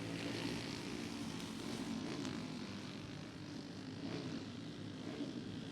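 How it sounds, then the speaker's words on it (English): Engines of fast racing karts drone continuously at a motorsports park, a steady, fairly distant roar with no talk over it. "Oh, I hear some big engines running."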